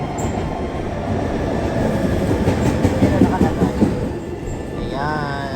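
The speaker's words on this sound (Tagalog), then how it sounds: "Ayan, ito na yung train namin." A commuter train pulls into a Shibuya station in Tokyo, a steady rumble and rhythmic wheel clatter building over platform noise, ending with a rising high-pitched brake squeal.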